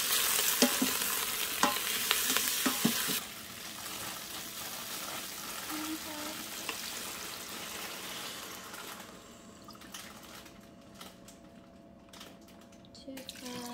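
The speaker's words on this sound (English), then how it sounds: "Mix it together." Soup ingredients for roasted asparagus soup stirred together in a pot, a busy wet scraping and sloshing that quiets after a few seconds and stays soft and close.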